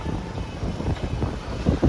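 Strong wind blows during stormy weather as rain begins, buffeting the microphone with a low, gusty rumble that swells and eases without pause.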